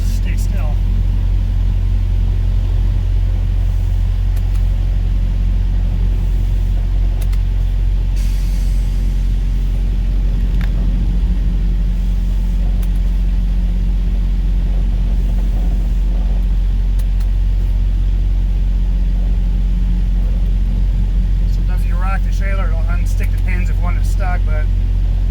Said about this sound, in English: I'm going to go backwards so the trailer will move but the trailer tires will stay still.